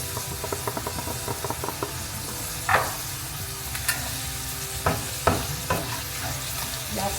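Ground beef from broken-up hamburger patties, seasoned with salt and black pepper, sizzles steadily in a pan for taco filling, with repeated scraping and stirring clicks and a few sharper utensil knocks over the continuous frying hiss.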